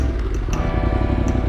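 A Yamaha Tenere 700 motorcycle engine runs with a steady, low, rumbling drone, close and fairly loud, with no clear speech.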